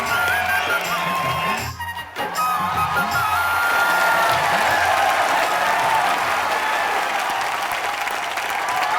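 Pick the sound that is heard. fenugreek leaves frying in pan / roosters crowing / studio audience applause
studio audience applause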